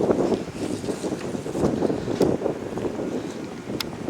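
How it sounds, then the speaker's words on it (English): Wind gusting outdoors on Pearl Street Walkway, buffeting the microphone in uneven, rumbling bursts that swell and ease throughout, with no talking. "There's wind."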